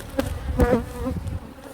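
Bees swarm around an open beehive, their buzzing a close, wavering drone that swells and fades as insects pass near, with faint movement sounds beneath.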